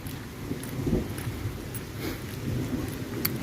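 Rain falls steadily outside Yusupov Palace near Yalta in Crimea, a continuous soft hiss with a low rumble beneath it, with no voices over it.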